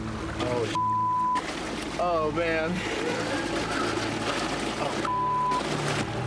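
Water rushes into a car sinking nose first, weighed down by a heavy fake engine and lowered from a crane with a man inside. The steady broad rush runs under close, excited talk, broken by bleep tones.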